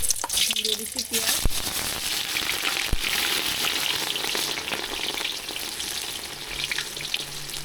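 Onions frying in plenty of hot oil left from frying chicken for biryani, a dense continuous sizzle close up, with a couple of sharp clicks and stirring scrapes near the start.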